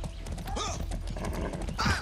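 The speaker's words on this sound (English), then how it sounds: "I'll just take the horse for now." Horse hooves clip-clop through countryside in Far Cry 6 on PS5, a quick run of hoofbeats with a brief neigh-like call near the middle, steady and fairly close under game ambience.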